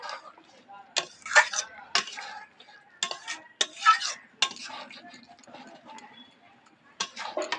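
A spoon slowly stirs a rohu fish and chana dal curry finished with ghee and garam masala, making intermittent close clicks and scrapes against the pan, with a soft voice now and then.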